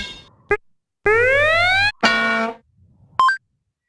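A few short electronic game-style sound effects in Scratch: a brief blip, a rising synthetic sweep, a buzzy burst, then a quick bright two-note coin chime, with gaps between.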